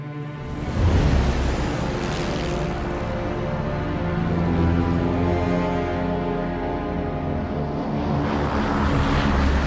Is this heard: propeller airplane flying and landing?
yes